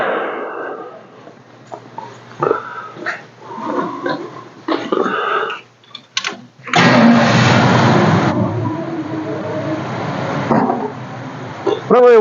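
A car engine fitted with a GM Quadrajet or Holley Sniper carburetion setup cranks and fires up, then settles into a loud, rough running note, with someone talking between and over the engine sounds.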